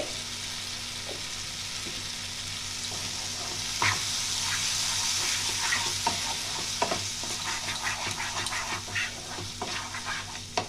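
Ingredients for a vegetarian Bengali-style paneer masala, with paste and salt added, stirred and fried in a pan: a steady close sizzle with repeated scraping stirs and soft clinks throughout, no talking.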